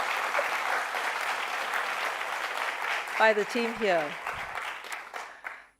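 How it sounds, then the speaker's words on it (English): Audience applause after a series of presentations at a Google event in Singapore, steady and full for several seconds, with a voice speaking over the clapping near the end as it fades. "How about another round of applause for all the wonderful presentations"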